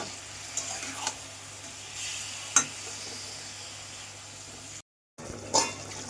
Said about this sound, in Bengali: 5 মিনিট আমি কষাবো, তারপরে আমি গ্যাসটাকে আস্তে দেবো